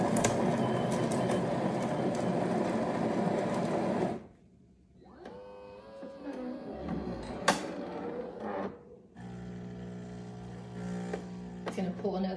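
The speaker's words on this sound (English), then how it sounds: "It's gonna pull another shot." A Zulay Magia super automatic espresso machine runs loudly as it grinds and pulls an espresso shot, with a dense mechanical whir, a pause, then clicks and a steady pumping hum near the microphone; no talk.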